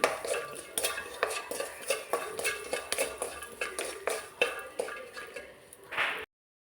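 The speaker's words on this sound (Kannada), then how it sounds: "ದ್ರಾಕ್ಷಿ ಹಾಕ್ತಿದ್ದೇನೆ. ಇನ್ನು ಸ್ವಲ್ಪ ಫ್ರೈ ಮಾಡ್ಕೋಬೇಕು ತುಪ್ಪದಲ್ಲಿ." Raisins fry in ghee while a spoon stirs and scrapes around a metal pan, with rhythmic clinks and scrapes repeating about twice a second up close over a faint sizzle, ending abruptly.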